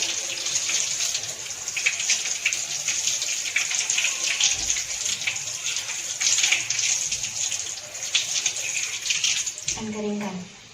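Hands are rinsed under steadily running tap water, a continuous splashing hiss that fills the clip and cuts off abruptly near the end.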